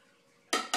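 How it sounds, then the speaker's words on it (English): Bread flour dumped into a bowl comes as two quick, loud whooshing bursts after a quiet moment, close by. "We dump all the flour in there."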